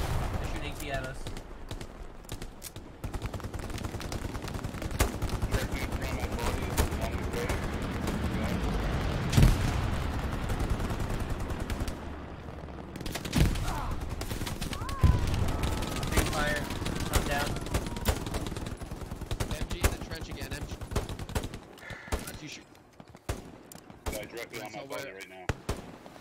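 Dense gunfire and explosions in the World War II shooter Hell Let Loose, including anti-tank fire, with sustained near and distant shots and booms while players talk throughout.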